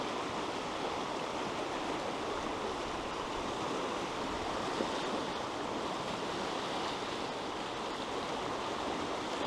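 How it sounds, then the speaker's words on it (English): River water rushes past a cycling route in Canada where salmon run, a constant broadband roar of flowing water filling the whole span evenly, fairly close and with no talk. "I'm wondering how deep this river is."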